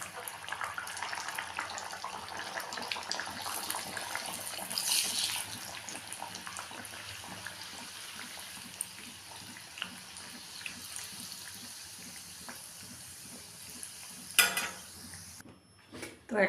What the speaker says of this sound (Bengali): তো তেলটা গরম হয়ে গেছে, এখন আমি ভাজতে থাকবো।